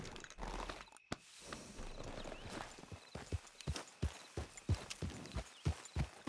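Horse hooves clip-clop at a walking pace in Red Dead Redemption 2, a series of evenly spaced, fairly close thuds growing more distinct and regular toward the end.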